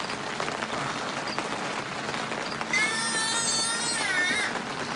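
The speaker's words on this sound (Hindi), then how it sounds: "बारिश और तेज़ हो गई है" Heavy rain pours steadily onto a surface, a dense broadband hiss with no let-up, while a faint high warbling call rises over it in the second half.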